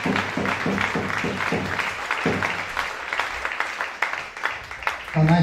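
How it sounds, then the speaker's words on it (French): A church congregation claps for Jesus during a service, with a sustained wash of applause filling the room while voices speak over it. "Clap your hand for Jesus"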